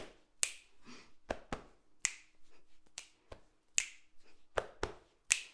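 A body percussion routine of finger snaps and claps with softer thumps between, about a dozen crisp hits in a quick, steady pattern, close and dry with no talking.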